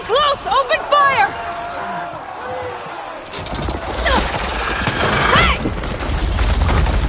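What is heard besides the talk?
gunfire in the video game Horizon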